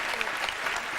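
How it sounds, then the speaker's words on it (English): A television studio audience claps for mums during an interview show, a brief, dense wall of steady applause heard up close. "all we can do is have a big round of applause for mums"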